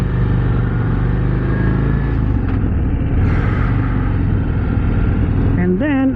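A 2024 Harley-Davidson CVO Road Glide ST performance bagger rumbles steadily and loudly while being ridden, a deep continuous engine drone, with a brief rising whine near the end.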